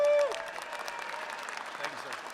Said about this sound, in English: Give him a big hand of applause,